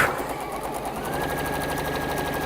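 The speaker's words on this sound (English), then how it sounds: "I'm a little bit loving my seam guide, Gem. Oh, your magnetic one? Yeah, because it just means that I can go fast." A sewing machine stitching a seam fast with a magnetic seam guide, a rapid steady mechanical whir and clatter running continuously up close.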